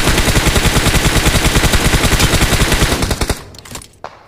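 Rapid automatic gunfire in BGMI (PUBG), a dense sustained burst of shots for about three seconds that breaks into a few scattered single shots before fading out.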